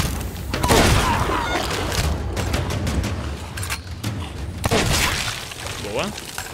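Gunfire in the pirate video game Sea of Thieves, with loud booming shots and crackling bursts mixed with game noise, while a player talks over it.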